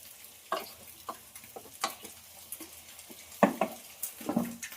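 Tomato and egg curry with drumsticks cooking in a pan, with soft sizzling and a few sharp clicks and stirring knocks of a utensil against the pan, fairly quiet with no talking.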